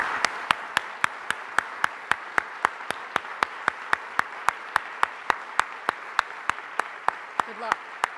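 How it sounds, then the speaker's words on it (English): Audience applause for students at the close of a talk, a steady background of clapping crowd with one sharp, evenly timed clap repeating near the microphone throughout. "Let's clap for the students who are going to be making our world."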